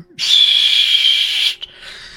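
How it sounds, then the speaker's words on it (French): A loud whistle blown at 5:30 in a prison camp: one shrill, sustained blast of just over a second, close and piercing, ending abruptly and followed by a brief faint knock. "5h30, vous entendez ce terrible sifflet qui vous revient encore en tête et aux oreilles."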